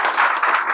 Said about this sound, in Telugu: క్లాప్స్ బేట